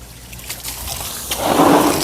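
Water is poured over freshly planted sword lily flowers in a home garden, a soft hiss at first that swells into a louder, steady splashing through the last half second.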